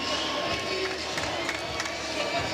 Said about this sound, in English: Loud cheering coming from the championship court